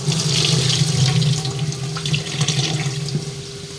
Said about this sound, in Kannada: ಪನ್ನೀರನ್ನು ವಾಶ್ ಮಾಡ್ಕೋತೀನಿ